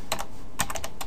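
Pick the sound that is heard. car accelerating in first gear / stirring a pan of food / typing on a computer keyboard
typing on a computer keyboard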